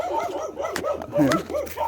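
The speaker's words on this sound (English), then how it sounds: "And you hear them dog there back." Dogs on a beach at East Prospect, St. Thomas, Jamaica, giving a few short barks and whimpering yelps at close range, with a voice mixed in among them.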